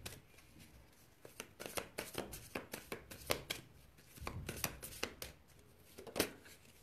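A deck of cards is shuffled for a psychic card reading, giving a quick run of close riffling and flicking bursts, fairly quiet and without speech.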